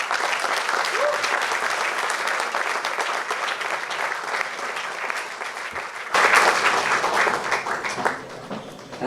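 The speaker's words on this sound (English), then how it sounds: "Huge round of applause, ladies and gentlemen, for Kajal Agarwal." Audience at a short film launch event applauds loudly and continuously, a dense wash of clapping that swells near the end while a voice speaks over it.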